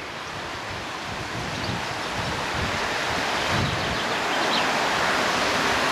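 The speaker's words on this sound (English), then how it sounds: "The water is flowing over this road, probably only from the fields" Floodwater streams over a road in Williton, West Somerset, probably runoff from nearby fields, making a steady broad rushing wash that swells slightly louder toward the end with no voices.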